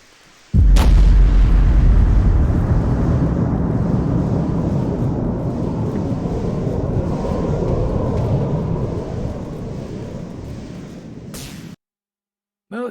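Rocket turret in the video game Artificial Extinction 2 unloads a heavy, booming barrage of rockets: one sharp blast, then a dense, rumbling roar of explosions that lasts about eleven seconds before cutting off abruptly.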